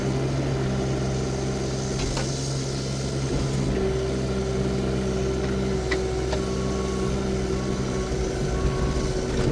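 A 2019 Caterpillar 302CR mini excavator runs with a steady diesel hum and drone while both tracks turn under their own power, with occasional faint clanks and squeaks over the continuous engine noise.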